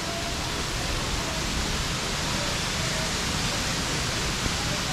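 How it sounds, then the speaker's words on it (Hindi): Water pours down into a pond at Ganesh Tekari in Nathdwara, Rajasthan, making a loud, steady rushing roar like a waterfall that fills the whole scene. "ये जो पानी जा रहा है नीचे, ये इसी तालाब में पानी नीचे जा रहा है"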